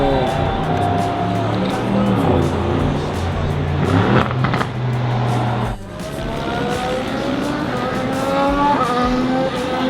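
Formula 1 race cars launch at a wet-weather race start, engines rising in shrill overlapping whines from the grid, one car after another, loud and close with a brief dip mid-pass.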